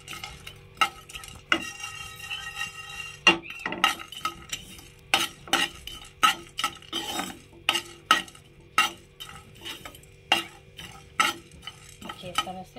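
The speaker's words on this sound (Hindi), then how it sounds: "इस तरह से हम भून लेते हैं सारा गरम मसाले को।" Garam masala dry-roasting in a pan for mutton cheese kebabs, stirred in a steady rhythm of sharp scraping strokes and metallic clinks about once a second, close and fairly loud over a faint sizzle.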